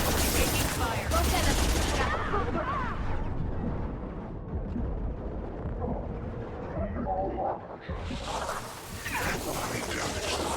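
Sustained gunfire from a firefight in Mass Effect 2, a loud dense fusillade of rapid shots and booming blasts that briefly thins mid-clip before surging back, with voices under the battle.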